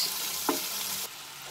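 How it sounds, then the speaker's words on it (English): Chopped tomatoes cook in a pan with a soft, continuous sizzle and faint frying crackle, one brief stir or clink partway through, fairly quiet and close. "I'm going to cook this till my tomatoes becomes little soft"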